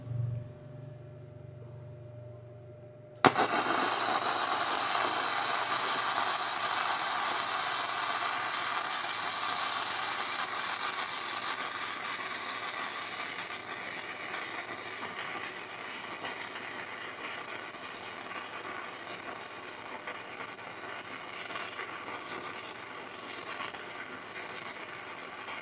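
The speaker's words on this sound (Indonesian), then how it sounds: "Oke, kita coba las sekali lagi." An APR AP39 MIG inverter welder strikes its arc after a quiet start, then gives a sustained crackling, hissing buzz that holds steady for over twenty seconds, close and moderately loud.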